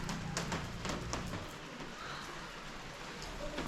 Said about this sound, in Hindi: इस तरह की बारिश है जी। मुसलसल मतलब रिमझिम चल रही है यहाँ पे।